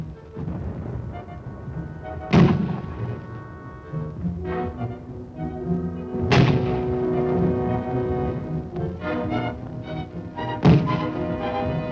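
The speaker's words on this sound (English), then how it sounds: "The sights are aligned and the 60 millimeter begins its explosive attack." A 60 millimeter mortar fires in a combat setting, three heavy booming thumps spaced a few seconds apart, each loud and sharp with a rumbling tail over continuous background noise and faint musical tones.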